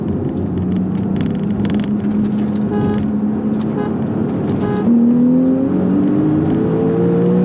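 Porsche 911 991.2 and C7 Corvette accelerating hard from a 40 mph roll in second gear, a loud, rising engine roar that climbs in pitch and steps up with a gear change partway through, with no talking.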